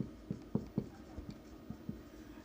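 Chalk tapping and scratching on a classroom board as a teacher writes out a chemistry definition, a series of short, soft strokes in an irregular rhythm, faint and close with no talking.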